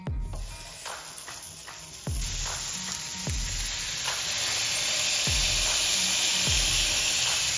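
A half-pound Wagyu beef burger stuffed with cheese and wrapped in bacon sizzles steadily on a hot cooking surface, a constant crackling fry with occasional sharp pops and clicks, close up and with no voices.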